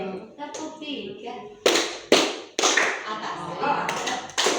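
Players in a counting icebreaker game clap hands together in sharp, loud bursts, a few separate group claps spaced apart, with a voice talking between them.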